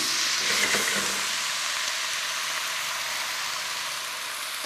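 Beef stroganoff with cream simmers in a pan, giving a steady, even sizzling hiss that continues without a break and without talk.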